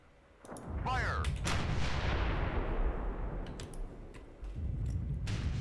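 Artillery fire from Sudden Strike 3 sets off a heavy, booming barrage that swells in quickly and rolls on as a loud, sustained roar with scattered sharp cracks, with brief voices mixed in.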